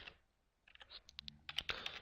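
Keys on a computer keyboard are tapped in a short burst while a web address is typed, starting after a brief silence and then clattering quickly and irregularly, close and moderately soft.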